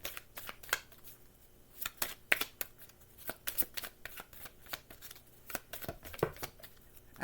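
Oracle cards being shuffled by hand, a deck of riffles and slides producing a run of crisp, close papery snaps and flutters in an irregular rhythm, with no talk.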